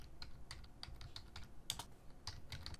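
Typing on a computer keyboard while entering Python library names into a requirements file, with quick irregular clusters of close, crisp keystrokes over a faint low hum and no talking.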